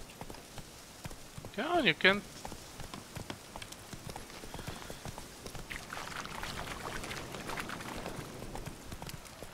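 Roach, a horse in The Witcher 3, gallops with steady clip-clop hoofbeats under speech, passing through splashing water; a short voiced burst stands out near the start.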